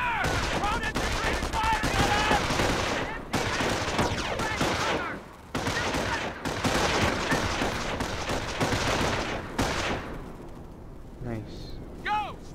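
Dense, continuous gunfire and explosions from the World War II strategy game Company of Heroes, heavy bursts running almost without pause, with voices shouting over the battle noise.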